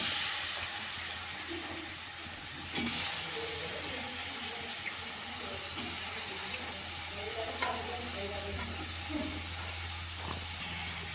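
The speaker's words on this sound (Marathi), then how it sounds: "आता हे वांगे जे आपण बारीक कापून घेतलेले ते आपण आता याच्यात टाकणार आहोत" Finely chopped brinjal hits spicy frying masala in a pan and is stirred, giving a steady close sizzle and hiss throughout, with one brief clatter early and soft scraping of the spoon, and no talking.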